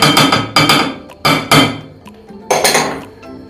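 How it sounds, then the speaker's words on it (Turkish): Cocoa cake batter is mixed in a bowl with a utensil, giving repeated clinking, scraping knocks against the bowl in uneven bursts, close and fairly loud, with no talking. "Güzelce karıştırıyorum."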